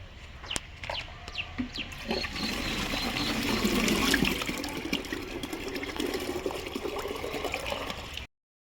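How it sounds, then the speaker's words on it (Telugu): Water splashes and gurgles steadily into a 5-litre can being filled to brew compost tea, rising slightly in loudness midway, with faint chirps in the background. "ఇప్పుడు వాటర్ ఫిల్ చేస్తాను"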